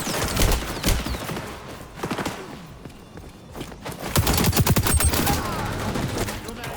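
AK rifle gunfire in a first-person shooter game, bursts of rapid shots crackling in clusters amid game ambience and scattered effects, loud and close, with a quieter stretch in the middle.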